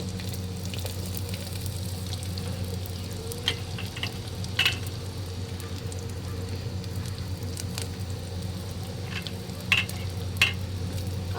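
Chopped onions sizzle in hot oil in a pan for a handi chicken dish, a steady low frying hiss running throughout with a few soft clicks and stirring taps, no talking.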